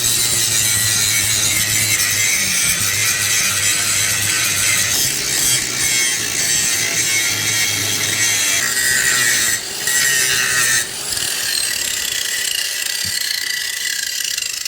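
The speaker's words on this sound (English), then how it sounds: "I'm going to scooch them back and tack them in, so I'm going to do some grinding here." Metal grinding while preparing motor mounts for an engine swap on a first-generation Toyota Tacoma, a steady loud whine close by that runs without pause for the whole stretch, with no talking.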